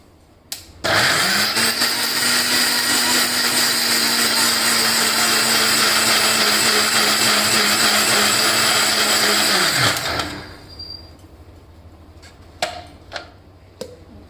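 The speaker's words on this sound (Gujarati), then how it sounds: "અને મિક્સરમાં એનો પલ્પ તૈયાર કરી લઈશું" Ripe mango pulp whirs in a mixer grinder for about nine seconds, a loud steady motor whine that starts abruptly and cuts off, followed by a few faint clinks of the jar.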